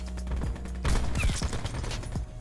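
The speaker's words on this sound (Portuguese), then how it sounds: "Esse design parece uma bazuca dando tiro, né?" A bazooka-like weapon fires in a video game: a dense burst of loud blasts and rapid mechanical bangs, close and continuous, with no talk over it.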